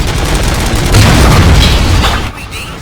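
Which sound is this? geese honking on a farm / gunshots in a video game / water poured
gunshots in a video game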